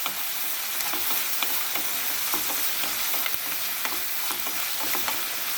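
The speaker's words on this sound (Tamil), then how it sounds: "இதையும் சேர்த்து நல்லா அந்த வெங்காயத்தை கூட வதக்கிக்கோங்க" Onions and tomatoes sautéing in a pan for a spicy prawn fry: a constant bright sizzle with repeated spatula taps and scrapes at an uneven pace, with no talking.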